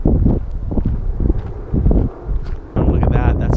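Strong wind buffets the microphone in low, rumbling gusts on a hillside near a wildfire, with a brief lull partway through before the roar returns.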